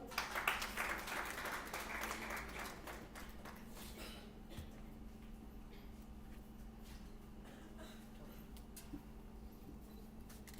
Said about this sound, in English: Please welcome him to the stage with big round of applause.